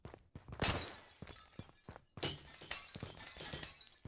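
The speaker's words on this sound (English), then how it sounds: "Oh, do you like our glass?" Repeated glass breaking in the DayZ video game, two big shattering crashes with trailing debris and scattered sharp impacts in between. The sound is close and fairly loud, and there is no talking.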